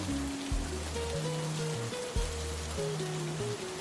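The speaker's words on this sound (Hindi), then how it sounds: "बाहर बारिश की बूंदें तिरपाल पर संगीत सी बज रही थी" Rain falling on a tarpaulin over a roadside tea and samosa stall in a jungle market, a steady close patter under a background of low, sustained musical tones.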